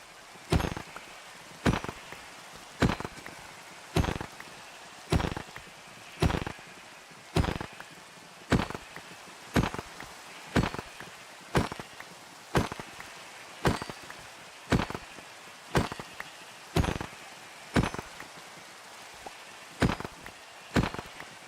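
Rain falls in the blocky survival game Minecraft, a steady soft hiss broken by regular sharp chopping or hitting clicks about once per second throughout.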